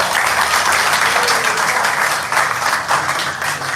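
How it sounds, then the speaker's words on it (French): Audience at a school conference in a collège applauding a speaker, dense continuous clapping throughout, loud and fairly near, with cheering mixed in and no talk. "Est-ce qu'on peut l'acclamer très fort?"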